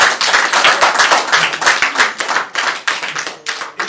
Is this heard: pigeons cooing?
no